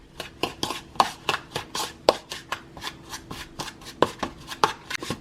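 Brown sugar and cinnamon stirred together in a bowl for cinnamon muffins, with a steady run of soft scraping and tapping strokes, close and quiet, and no talking.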